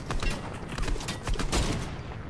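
Gunfire in the Fortnite video game, a rapid burst of several sharp shots in close succession with uneven spacing, loud and near, no talk over it.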